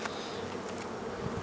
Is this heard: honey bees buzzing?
yes